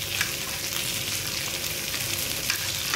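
Fresh nivtya (mudskipper) fish fry steadily in a hot pan for an Agri-style fry, a dense continuous sizzle with faint crackles and no voices.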